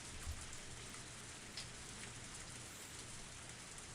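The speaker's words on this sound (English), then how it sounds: "The sound of falling raindrops was fierce." Heavy rain pours down in Higurashi When They Cry, a dense, steady hiss of drops striking surfaces with no break and no voices.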